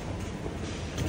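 Metro station ambience: a continuous low rumble and broad hum of rail noise and the station interior, fairly quiet and steady throughout with no clear voices.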